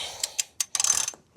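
A ratchet working on the chain adjuster of a 2025 CFMoto 450SS motorcycle gives a few quick close clicks, then a brief rapid run of ratcheting clicks, crisp and alone.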